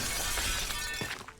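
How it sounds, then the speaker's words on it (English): A window pane smashes in the Arkham Horror video game, a bright burst of shattering glass with tinkling fragments that fade out quickly. "you smashed my window?"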